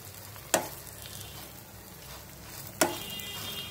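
Bitter gourd (kakarakaya) frying in a pan, a quiet steady sizzle with two sharp knocks of a spoon or spatula against the pan, no talking.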